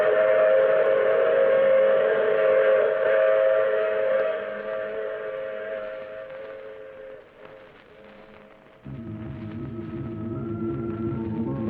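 A departing train in an old radio drama effect: sustained steady whistle tones over a low rumble, dropping away midway before a heavier low chugging rumble rises near the end, with no voices.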